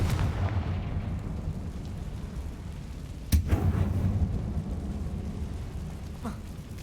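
A Confringo fire spell detonates in Hogwarts Legacy with one sharp, booming blast midway through, cracking out of a low rumbling background and fading into a reverberant tail.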